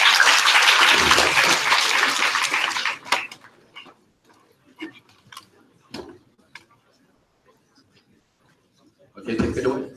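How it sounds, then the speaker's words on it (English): Loud auditorium applause greets the first student team at the NUS Orbital 2017 Ignition event in the I3 Auditorium. It fades after about three seconds into scattered claps and quiet talk, then swells briefly again at the end. "Give a round of applause to them."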